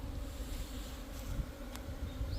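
Steady, dense insect buzzing from a swarm of native Korean honeybees around a hornet trap, a continuous low drone with no voices over it.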